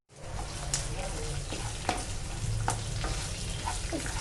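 Cumin, mustard seeds, white sesame and one or two dry red chilies sizzle steadily in hot oil, a dense continuous frying hiss with small crackles and pops, close and fairly loud, with no talking.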